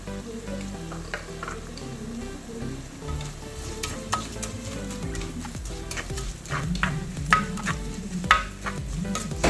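Onion and urad dal sauté in oil in a pan, giving a continuous loud sizzle with frequent scraping stirs from a spatula, close up and without talk.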